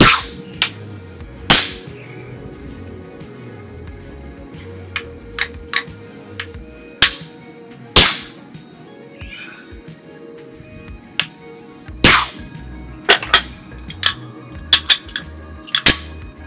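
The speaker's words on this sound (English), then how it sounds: "So I'll keep forging in that tenon" Hammer forging a tenon on hot steel stock at an anvil: sharp metallic ringing strikes in irregular clusters, loud and close, with pauses between blows over a low hum.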